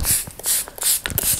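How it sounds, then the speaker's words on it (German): A hand spray bottle mists water onto hair in three or four quick, close bursts of hissing spray. "Feucht sprühen."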